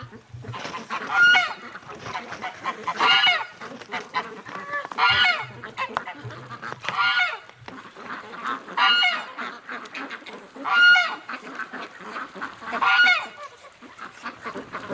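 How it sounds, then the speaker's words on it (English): Ducks or geese honk and quack in repeated bursts every couple of seconds on a frozen winter day, fairly close and loud, with quieter calls between the louder outbursts. "I could hear the quacking come by the door."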